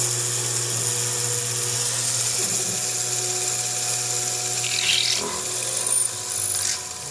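A milling machine cuts a knife blade at about 2200 RPM, giving a steady high-pitched grinding whine with a constant motor hum underneath. It runs loud and continuous, with a brief dip near the end and no talk.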